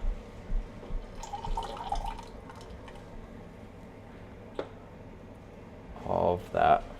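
Frothed cream from a Ninja Luxe Café frother poured into a shot of espresso, giving a soft liquid pour and light splashing, followed by a louder burst of pouring near the end, with quiet background noise throughout.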